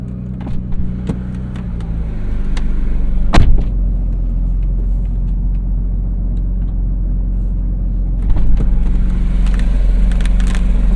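Cabin of a Porsche 911 GT3 with a deep, steady engine rumble filling the interior, swelling louder for a moment near the start and again toward the end.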